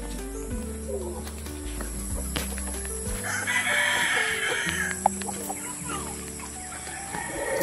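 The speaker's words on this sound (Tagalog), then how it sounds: "dami din nilang mga pangsabong na manok, oh" Gamecock roosters in a backyard pen crow repeatedly in long, loud calls, with softer clucking between them and steady outdoor background noise.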